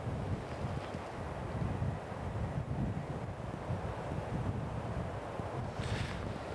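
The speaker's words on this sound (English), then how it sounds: "the wind's picking up, which is not fun" Steady wind blows across an exposed ridge in Oregon backcountry, a continuous low rushing roar with buffeting gusts against the microphone and no voices.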